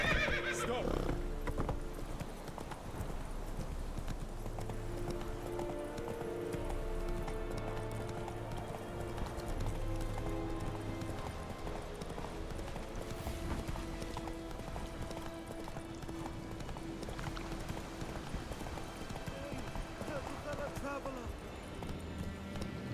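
In The Witcher 3, a horse gallops with rhythmic hoofbeats and gives a whinny over a game music score, and voices speak over it.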